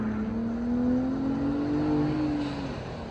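A Gen3 Ford Raptor F-150 with an AWE catback exhaust revs up, a loud, refined drone climbing and holding in pitch for about three seconds before dropping off, with no talking.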